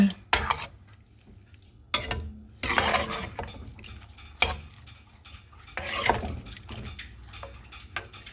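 A spoon stirs water through a pot of rice pudding, giving several bursts of scraping and clinking against the pan separated by short quieter gaps, close and fairly loud.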